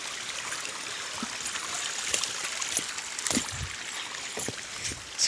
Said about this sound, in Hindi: यहाँ से पूरा पानी आ रहा है किनारे से